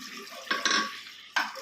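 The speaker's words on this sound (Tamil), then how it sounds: "இப்போ நம்ம தண்ணி ஊற்றிக்கலாம்" Water is poured into a pressure cooker for a mutton gravy, coming in two or three short, splashy gushes close by over a quiet background.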